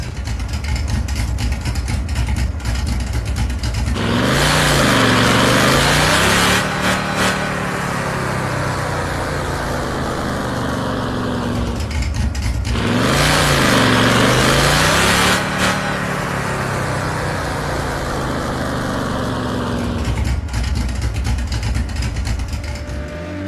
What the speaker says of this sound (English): Now let's take a listen to the older Dodge Charger on the dyno test again.